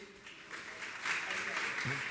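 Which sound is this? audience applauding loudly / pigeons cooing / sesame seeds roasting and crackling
audience applauding loudly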